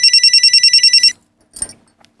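A telephone rings in a police station with a steady, rapid electronic trill, about ten quick pulses over one second, then stops; a brief clatter follows, like the handset being picked up.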